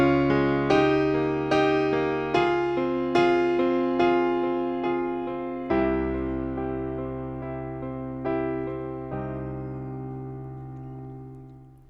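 Solo piano playing a section of a song, a slow sequence of struck chords and bass notes about once per second, each ringing and decaying, close and alone.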